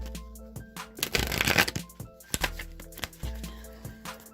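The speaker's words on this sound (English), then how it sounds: "I'm going to give this deck 3 shuffles" A tarot oracle card deck is shuffled up close, with quick riffling bursts and a dense flutter of cards in the middle, then softer taps and slides as the deck settles.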